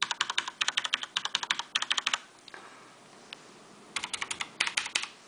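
Typing on an MK-80 keyboard: rapid bursts of close, crisp key clacks in clusters, a quiet pause in the middle with a few isolated taps, then more quick keystroke runs.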